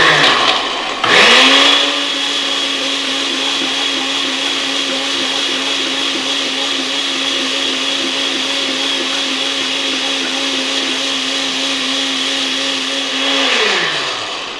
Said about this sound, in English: because it hasn't taxed the blender at all